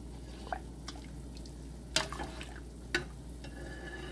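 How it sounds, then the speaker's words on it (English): Boiled lentils tipped into a pot of squash soup give faint wet plops and drips, a few sharper splashes near the second and third seconds, against a steady low kitchen hum. "it is now time for me to add the entire lentils that I cooked or boiled into our pot here"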